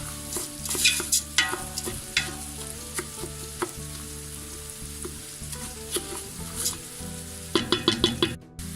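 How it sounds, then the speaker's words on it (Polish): Rice sizzling and frying in butter in a pan for chicken risotto, stirred now and then with scraping clinks, a steady close crackle with no voices. "I chwilę przesmażę z tym masełkiem."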